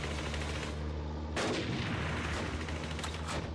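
Gunfire aimed at a tank's treads in the WW2 Online game, a sustained burst of shots with a sharp crack partway through, loud and continuous.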